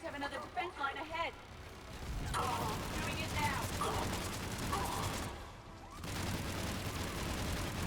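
Lancer rifle fire in the video game Mass Effect 3 rattles in dense, rapid bursts, loud and continuous with a brief pause, while a voice is heard over the opening moments.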